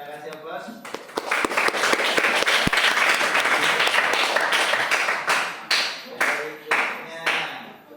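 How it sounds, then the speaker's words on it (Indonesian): Classroom applause for a student group, a burst of many hands clapping together that swells for several seconds and then breaks into scattered, tapering claps. "Kita kasih aplaus."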